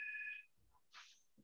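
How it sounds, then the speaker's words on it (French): A landline telephone rings once at home with a brief electronic tone, faint in the background before other low household sounds. "j'ai le téléphone qui sonne en plus chez ma belle-mère"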